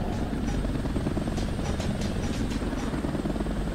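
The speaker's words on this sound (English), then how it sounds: "Oh, your helicopter's over here too now." A video-game helicopter in Toy Soldiers: Cold War drones with a steady rotor thrum at moderate volume throughout, no voices over it.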